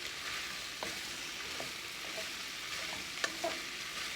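A spoon stirs sweet potatoes and seasoned turkey in a frying pan, giving a soft steady sizzle broken by a few scattered scrapes and clicks.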